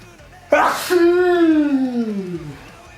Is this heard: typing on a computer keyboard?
no